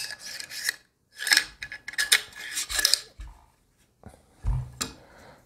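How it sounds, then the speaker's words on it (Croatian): Metal parts of a new rifle being handled, the bolt-pulling lever slid into place, heard as close scraping, clinking and rasping in short bursts with a soft thud near the end. "ubacujete prvo ovu polugicu za povlačenje zatvarača"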